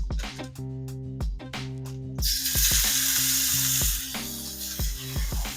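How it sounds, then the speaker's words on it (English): Chicken pieces sizzle steadily in oil in a hot frying pan, a loud hiss swelling midway, with regular rhythmic thumps from music playing throughout. "I'm just gonna toss as many of these chicken bits on the frying pan as I can"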